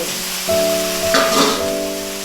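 Pre-fried potatoes tossed into a spice masala in a pan for a Bengali potato and pomfret curry, giving a close, steady sizzle with a brief louder flare of frying midway.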